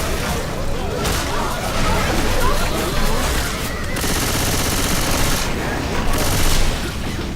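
Video game gunfire from shooting enemies comes as dense, rapid bursts of automatic fire, loud and continuous with a few heavier surges, amid the busy noise of a firefight.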